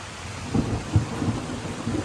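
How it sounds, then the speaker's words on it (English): Steady rain pours down around a center chimney rebuild site while low rumbles of thunder roll through, a loud broadband hiss with a few deeper thumps rising out of it and no voices. "It's not supposed to be raining today, but it's raining."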